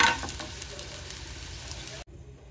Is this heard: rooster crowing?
no